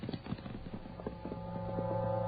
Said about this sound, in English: Yeah, it's a horse.